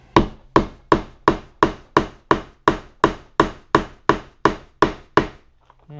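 A hammer strikes a metal fitting on the sailing rig of a Portland Pudgy dinghy to round it over: about a dozen crisp, evenly paced close taps, each ringing briefly, then a short pause with faint handling noise.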